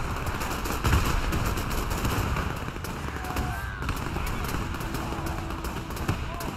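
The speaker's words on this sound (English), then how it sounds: "Machine guns are firing." Machine guns fire across a battlefield in the real-time strategy game Men of War 2, a dense, continuous crackle of rapid shots layered with busy combat noise that runs steadily throughout.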